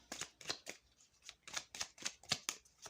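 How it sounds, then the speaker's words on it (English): A deck of cards shuffled up close, a quick run of soft riffling bursts in a steady rhythm, quiet and alone. "I do want to shuffle them some more"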